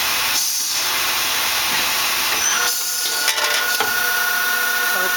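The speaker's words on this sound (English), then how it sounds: "And we have a program running in it so you can hear how it sounds." A Hanwha Hanex 25 CNC Swiss lathe runs a program with the sub-spindle engaged at 2,000 RPM. The result is a steady bright hiss and whine with a thin high tone, plus a few brief machining bursts, near and continuous.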